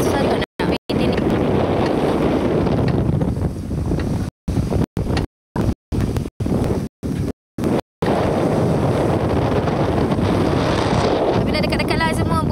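A small boat traveling in a convoy rocks at sea in strong wind, with heavy roaring wind buffeting the microphone and waves splashing throughout, broken by several brief dropouts, while a person talks over it.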